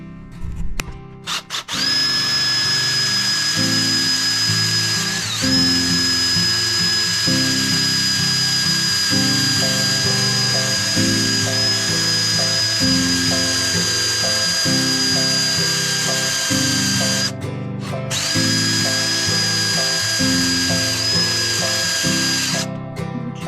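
A power drill whines steadily at close range with a high-pitched motor tone, while a rhythmic scraping rasp of sanding a wooden bowl repeats underneath, briefly pausing once.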